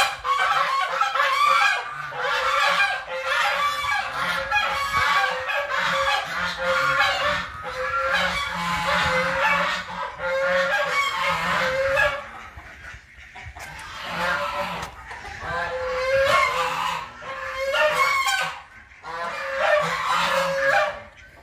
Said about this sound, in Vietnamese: bên đây nuôi ngỗng với lại gà nè